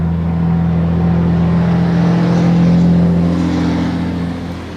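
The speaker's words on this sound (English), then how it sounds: "Oh, someone's driving to work." A car drives past on a residential street in the morning, its loud engine droning steadily and close, swelling slightly before easing off.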